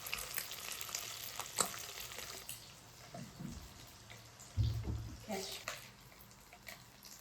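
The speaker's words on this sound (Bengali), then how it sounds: "এর জন্য আমি হালকাভাবে ভেজে এগুলো তুলে নেব।" Small Amudi fish frying lightly in oil, a soft low sizzle with occasional pops and stirring, faint and close with a brief louder clatter midway.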